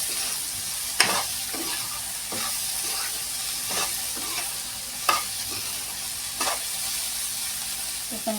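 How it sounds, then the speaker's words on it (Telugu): Cauliflower fry being stirred in a hot pan, a steady frying sizzle underneath with several sharp scraping clicks of the spatula against the pan at irregular intervals. "ఇప్పుడు కలుపుకుందాం."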